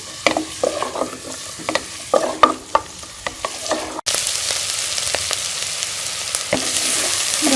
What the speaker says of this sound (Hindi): प्याज को छोटा सा फ्राई कर लेंगे और बहुत ज़्यादा जो है प्याज को फ्राई नहीं करना